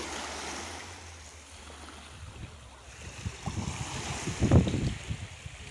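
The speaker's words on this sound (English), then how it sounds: "we'll be giving you a view of the Bulls Bay Beach, which is in Lucea, Hanover" Waves washing ashore at Bulls Bay Beach in Lucea, Hanover, Jamaica, a broad steady surf hiss with wind noise, swelling into a louder nearby crash toward the end.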